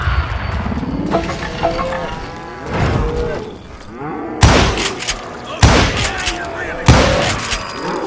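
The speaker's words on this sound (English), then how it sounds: "Shoot that son of a bitch!" Sharp, loud gunshots in the Western shooter Call of Juarez Gunslinger, three heavy blasts spaced about a second apart following a stretch of lowing cattle and voices.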